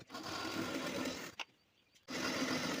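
A sewing machine stitches around an embroidered blouse in rapid, whirring bursts, running steadily, pausing for about half a second, then starting again close by.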